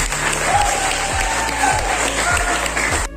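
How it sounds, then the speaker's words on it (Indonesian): Audience applause at an anti-corruption education talk, steady dense clapping throughout with a low hum underneath, fading at the very end. "Tepuk tangan dulu untuk Bapak."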